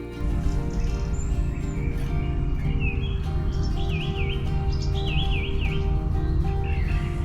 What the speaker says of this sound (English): as the last rays of light fade, the birds begin their twilight chorus